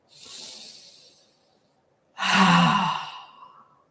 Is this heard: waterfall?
no